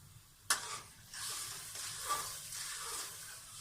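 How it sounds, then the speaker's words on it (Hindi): Tomatoes and onions fry in a pan for dal moong with methi, giving a steady soft sizzle after a sharp clack near the start, with stirring scrapes and faint hiss throughout and no speech. "टमाटर और प्याज अच्छी तरह से रोस्ट हो रहे हैं।"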